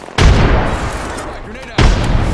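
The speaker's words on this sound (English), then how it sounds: "Frag out!" Two heavy, booming frag grenade blasts from a shooter video game, each a sudden loud burst that rolls on with a rumbling tail, the second arriving about a second and a half after the first.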